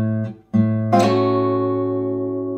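Guitar playing a blues chord that begins with a slide, a low note wavering briefly before the full chord rings out and sustains, fading slowly, with no talking.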